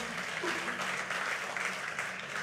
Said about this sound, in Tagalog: Pumalakpak kay Lord